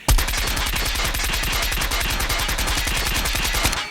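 Automatic gunfire from a weapon in Call of Duty ranked gameplay, a single sustained burst of rapid, evenly spaced loud shots running for nearly four seconds without pause.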